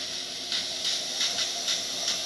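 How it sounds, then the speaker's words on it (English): Steam wand on a DeLonghi Magnifica XS espresso machine after a full tune-up, a strong steady hiss that swells in short rhythmic surges, close and loud with no talking. "Nice strong steam."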